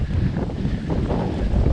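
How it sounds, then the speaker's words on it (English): Strong gusty wind buffets the microphone by the bay along Doha's Corniche, a loud continuous low rumble that swells and dips without a break, with no voices. "And like I say, there's a ton of wind,"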